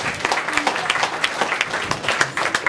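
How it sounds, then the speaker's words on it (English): Audience at a show in a crowd clapping steadily, a dense burst of applause with sharp individual claps standing out throughout. "Let's give her a round of applause."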